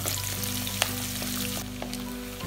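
Shallots and crushed garlic cloves sauté in hot oil for a Tamil kuzhambu, giving a steady, close sizzle with a few sharp crackles and no talk.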